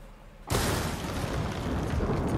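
Thunder breaks over a storm in the Ghost of Tsushima video game, an abrupt loud crack followed by a sustained, broad rumble that stays heavy and close to the end.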